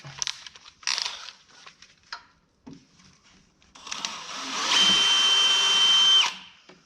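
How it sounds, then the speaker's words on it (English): A handheld power drill bores holes to mount an aftermarket tractor seat: a few short clicks and bumps first, then one loud, steady whirring run of about two seconds that stops abruptly. "Trying to drill nice and straight so we don't waller out the holes"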